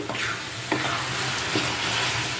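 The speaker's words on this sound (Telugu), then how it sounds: "ఇలా బాగా కలిపేసి కొంచెం కొత్తిమీర పుదీనా వేసి అలా ఉంచాలి కాసేపు" A spoon stirs prawn curry with coriander and mint in a sizzling pan, giving a steady frying hiss with a few soft scraping strokes, close and moderately quiet.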